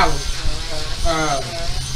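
A cheap handheld immersion blender whirs while preparing a low-carb meal, a loud, close electric motor buzz that holds steady and shifts slightly in pitch as it works.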